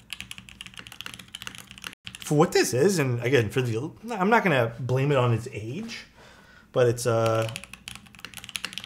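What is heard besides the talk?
typing on an aluminum top mount keyboard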